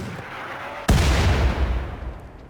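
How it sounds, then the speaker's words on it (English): A mortar shell explodes in RimWorld combat: a sudden, heavy single blast strikes out of quiet background noise, then a long rumbling decay fades slowly. "An inconsequential mortar lands as Nicholas inches closer"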